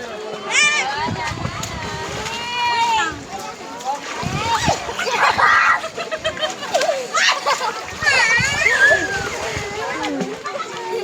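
People swimming in a river splash and slosh water continuously, close and lively, while voices shout and chatter throughout over the splashing.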